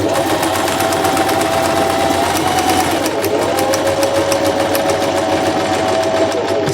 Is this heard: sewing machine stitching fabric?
yes